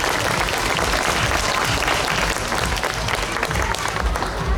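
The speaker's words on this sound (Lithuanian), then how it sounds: "Plojimai dar kartelį." An audience at the Laumės juosta festival in Palanga claps continuously and loudly, forming a dense steady wash of applause with no break.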